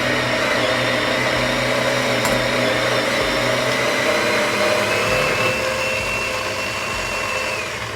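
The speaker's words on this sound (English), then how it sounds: "I'm going to grind this fairly fine." Coffee grinder grinding Ethiopia Worka beans fine for espresso, a loud continuous motor whir with a steady pitch, close and alone, easing slightly toward the end.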